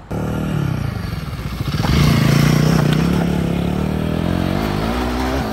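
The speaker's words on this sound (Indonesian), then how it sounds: "kesan dari suara knalpot dan rantainya itu" A Royal Enfield Guerrilla 450 motorcycle engine runs loud and close, its exhaust note rising into a throaty rev with chain clatter underneath, steady for several seconds.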